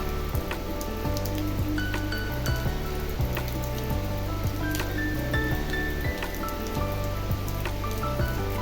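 Steady rain pours down outdoors, a dense continuous patter on surfaces with scattered individual drops standing out, loud and close throughout with no one speaking.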